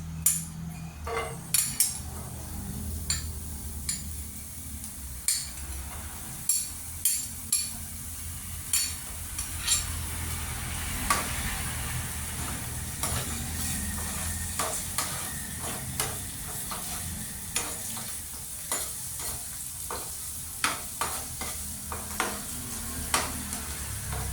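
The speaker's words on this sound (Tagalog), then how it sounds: "Mainit na po, ilagay na natin ang bawang sibuyas." Garlic and onion sizzle in a hot pan as the base for chicken adobo, a steady frying hiss broken by regular scrapes and clinks of a spoon stirring against the pan, close and without talk.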